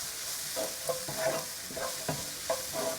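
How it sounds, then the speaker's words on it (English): Ginger and garlic frying with onions in a pan for saag aloo, a steady close sizzle broken by several scraping stirs of the spoon, no voices. "I'm going to throw in the ginger and the garlic and continue to cook this"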